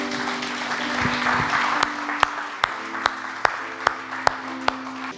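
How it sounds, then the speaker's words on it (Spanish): Applause from a congregation during a church service, a moderate wash of clapping that gives way to a few sharp, evenly spaced claps near the end, with a faint tonal hum underneath. "Vamos a darle un aplauso a la palabra de Dios"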